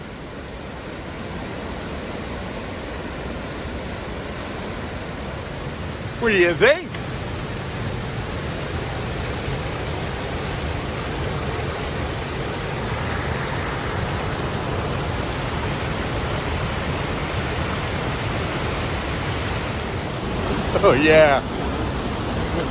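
A storm-swollen waterfall roars in a loud, continuous wash of churning water, with brief voices and excited exclamations breaking in near the start and again toward the end.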